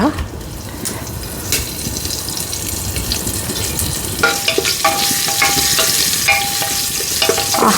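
Dried red chillies and curry leaves frying in hot oil, a steady crackling sizzle with stirring, joined by brighter spattering pops partway through.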